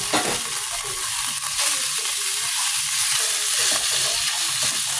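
Loud, steady sizzling of pork stir-frying with curry paste in a hot wok, with the scrape and toss of stirring throughout.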